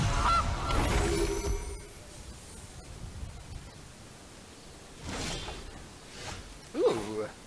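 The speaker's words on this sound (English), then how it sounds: "Kill the goose" A goose honks in a Magic: The Gathering digital card game, with a short honk at the start and a louder one near the end over a steady hiss of game ambience.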